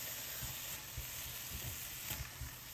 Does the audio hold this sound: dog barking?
no